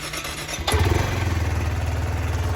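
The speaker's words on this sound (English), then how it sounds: "I'm guessing it's gonna take about 5 or 6 seconds to crank" A Kawasaki Z125 motorcycle, cold after sitting, cranks briefly and then catches, settling into a loud, close, steady single-cylinder idle with rhythmic pulsing beats.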